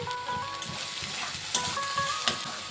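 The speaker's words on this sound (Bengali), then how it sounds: "পেঁয়াজটিকে দিয়েও একটু ভেজে নেব।" Onion and green chili fry in a pan, a close, steady crackling sizzle with small stirring scrapes and no talking.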